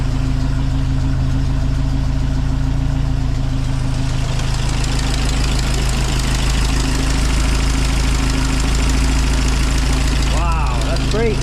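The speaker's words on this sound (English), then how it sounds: "It's idling pretty good." A Triumph TR4 engine idles steadily with a deep, continuous low rumble and an exhaust that still has debris in the muffler, running without choke; the sound stays loud and constant throughout.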